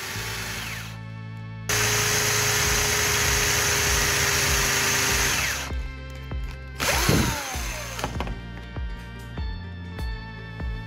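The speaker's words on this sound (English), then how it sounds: "Now I'll drill the hole wider so I can insert the spark plug base into it." A power drill bores a hole in a block of wood sized for a spark plug base, whirring loudly and steadily for several seconds, then stopping and restarting in shorter bursts with clicks and handling noise.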